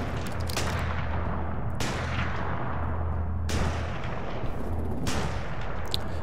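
Zombie-apocalypse video game gunfire: four heavy, booming gunshots spaced about 1.5 seconds apart, each with a long echoing tail over a steady low rumble, with no talking.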